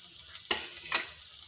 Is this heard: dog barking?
no